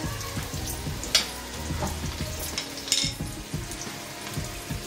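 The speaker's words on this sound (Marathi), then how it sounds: "तेल गरम झालेलं आहे। कांदा टाकूया" Onion sizzles in hot oil in a pan, a steady crackling fry with sharp pops, and a spoon or utensil scrapes and stirs against the metal now and then.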